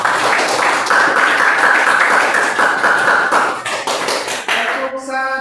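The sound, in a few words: group applause clapping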